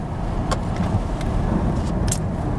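Front-wheel drive car driving on the road, heard from inside as a steady low road and engine rumble with faint rattles and clicks over it, no talking.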